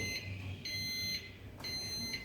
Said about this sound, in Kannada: ನಿಮಗೆ 3 ಸೆಕೆಂಡ್ ಇರುವಾಗ 3 ಬೀಪ್ ಸೌಂಡ್ ಬರುತ್ತೆ